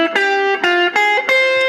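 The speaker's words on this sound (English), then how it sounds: "my tone is kind of distorted" A distorted electric guitar plays a short run of sustained notes with a gritty, overdriven tone, each note ringing clearly and loudly on its own, in a jazz phrase over a minor ii-V-i.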